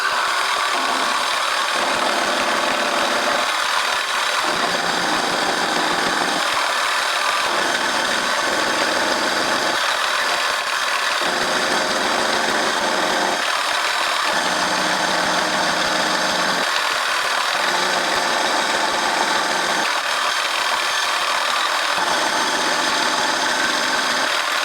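A machine cutting tool removes material from both sides of a workpiece ahead of a dovetail bit: a loud, continuous mechanical whir with a regular rise and fall as each cutting pass comes and goes.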